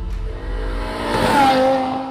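A BMW E60 M5 with its V10 engine revs up and swells in pitch, a close, loud engine note that builds and holds without any talk.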